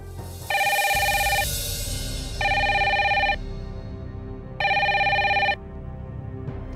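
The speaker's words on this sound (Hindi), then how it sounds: "कोई फोन को नहीं उठा रहा है।" A telephone rings three times and goes unanswered, each ring a loud, close electronic trill of about a second, separated by pauses with low background noise.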